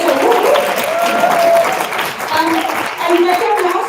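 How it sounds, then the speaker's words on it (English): An audience at a live startup event claps and cheers for a mentor coming up to speak, producing dense sustained applause with a few whoops rising above it. "let's give her a round of applause"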